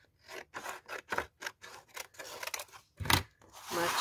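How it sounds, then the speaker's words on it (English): Scissors cut paper shorter for a lace-and-button junk journal, with a quick series of crisp snips in a steady rhythm close up, then a brief rustle of the paper. "So I'm just going to cut it a bit shorter."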